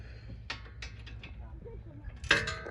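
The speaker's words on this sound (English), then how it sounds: "now you can tighten your bolts back up" A tool tightens the bolts back up after a brake change on a 2018 Toyota Camry, giving a few quiet ratcheting clicks and then a brief metallic clank over low background noise.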